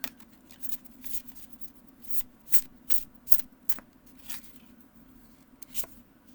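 Tarot cards being spread across a table and picked out, a series of papery swishes and slides in irregular bursts, close and quiet.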